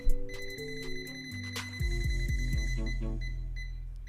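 Rapid electronic beeping from a multimeter's voltage detector held near a live power socket, pulsing quickly and then speeding into a steady insistent tone, fairly close.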